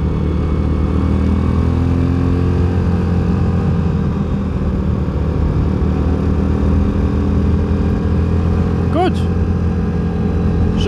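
Access Shade 850 Xtreme quad engine running steadily, a constant loud low-pitched drone with a slight rise near the end and a brief chirp of another sound over it.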